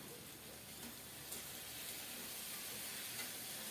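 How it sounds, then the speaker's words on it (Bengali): Potatoes frying in mustard oil tempered with cumin seeds, a soft, even sizzle and hiss that runs quietly throughout with no voices. "সরিষার তেলে জিরা ফোড়ন দিয়ে আলুটা বসিয়ে দিলাম"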